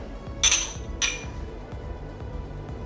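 Glasses clink together in a toast, two bright, quick chimes half a second apart, followed by a quieter room background.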